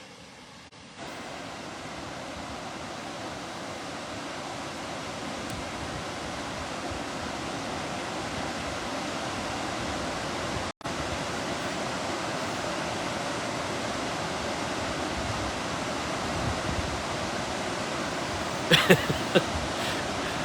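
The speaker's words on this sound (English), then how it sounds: "let me give you 30 seconds of the sights and sounds of the mighty Genesee River flowing beautifully through Letchworth State Park" The Genesee River flowing through Letchworth State Park gives a steady, broad rushing roar of water, constant and unbroken, with a brief dropout midway and a few small knocks near the end.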